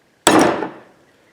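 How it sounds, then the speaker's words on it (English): A big hammer strikes a flat punch once against a McCulloch Timber Bear chainsaw: a single loud, sharp metallic-wooden bang that decays quickly, close by and alone. "use the big persuasion hammer"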